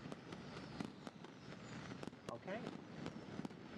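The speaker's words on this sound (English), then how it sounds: "I can hear someone shouting out fireworks everywhere." Fireworks going off outside during a nighttime livestream: a steady series of sharp, distant cracks and pops, roughly several per second, faint beneath the room, with a person briefly talking.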